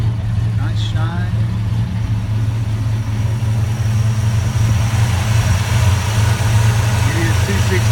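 A 1957 Chevrolet 3100 pickup with a 265 V8 fitted with upgraded heads idles steadily nearby, a low, even rumble running throughout, with a brief voice early on over the engine.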